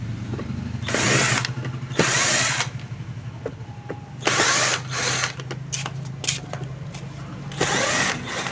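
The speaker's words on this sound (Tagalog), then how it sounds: "Tanggalin lang natin yung mga tornilyo." A power screwdriver backs screws out of a rechargeable sprayer's housing in several short whirring bursts with pauses between, close and fairly loud over a steady low hum.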